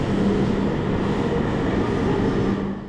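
A Shinkansen E7 bullet train, a 12-car high-speed EMU, pulls into the station with a steady loud rumble that eases slightly at the end, no voices.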